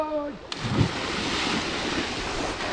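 Heavy rushing water from a waterfall swollen by monsoon rain, a loud continuous roar with a brief splash early on and a short tonal sound at the start.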